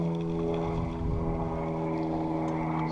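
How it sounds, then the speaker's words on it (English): An 80cc two-stroke engine kit fitted to a bicycle drones steadily and close by, a buzzing tone with strong harmonics that swells slightly midway and then holds level. "let the clutch out, and then that will bump start the engine"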